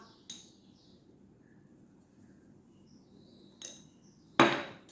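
A knife slices an onion on a board in a quiet kitchen. Three crisp, separate chopping knocks come at uneven intervals, and the last one is the loudest.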